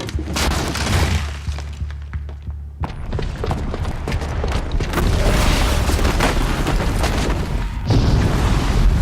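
A booby-trapped bomb exploding in Horizon Zero Dawn, a heavy booming blast with crashing, shattering debris that keeps rumbling loudly and densely, with a brief drop partway through.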